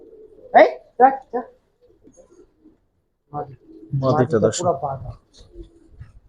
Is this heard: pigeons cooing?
yes